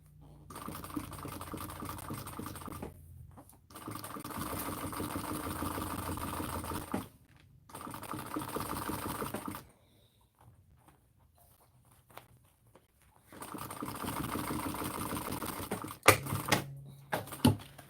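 A domestic sewing machine top-stitching fabric runs in steady rapid mechanical bursts of several seconds each, separated by pauses, close and clear with occasional small clicks.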